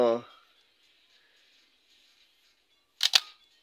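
Minolta X-700 film SLR camera shutter firing once, a sharp near double click with a short mechanical snap, heard after a brief voice at the start and a quiet gap.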